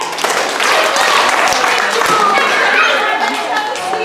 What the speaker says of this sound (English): let's give our actors 3 claps and a snap